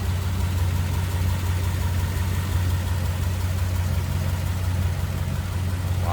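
The flathead engine of a 1947 Ford Super Deluxe Coupe with a single carburetor and 6-volt system idles smoothly and steadily, a low even rumble with no voices.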